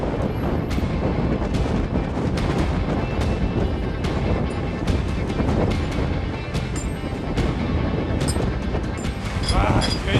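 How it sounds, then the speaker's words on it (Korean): Strong wind blasts across a rooftop where workers install compressed straw-bale boards on an eco house, making a loud, steady roar with constant gusting rumble and buffeting throughout. "여기서 바람이 세긴 세다."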